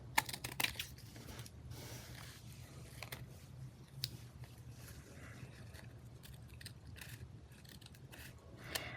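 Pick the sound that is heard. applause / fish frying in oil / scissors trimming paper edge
scissors trimming paper edge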